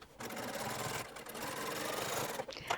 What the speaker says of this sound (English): Double top stitch.